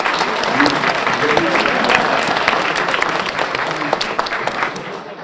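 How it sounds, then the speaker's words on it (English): Warm applause fills a room at a student research awards ceremony, many hands clapping in a dense, sustained burst that slowly tapers off toward the end. "Let's have a big round of applause for that."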